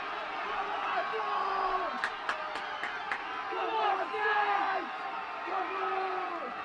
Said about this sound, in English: You can hear the crowd are absolutely loving this